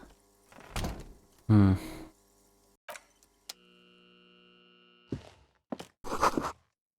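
A door in the video game Disco Elysium gives short knocks and thuds followed by a sustained mechanical tone, with clear interface-style clunks, with no speech.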